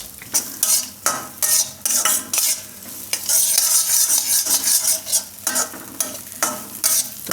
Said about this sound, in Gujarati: તો ધીમા ગેસે એને શેકી લેવું આપણે.